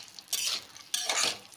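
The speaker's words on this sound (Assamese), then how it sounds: "তাৰপিছত বাদামকেইটা দি দিলোঁ। ভাজি থাকিলোঁ" Peanuts being stirred and fried in a pan over a raised flame: two separate bursts of scraping and rattling, each lasting about half a second, close by with quiet pauses between them.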